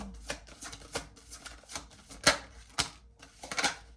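Quiet shuffling of tarot cards, a series of soft riffling slaps and flicks in irregular bursts, close by with no talking.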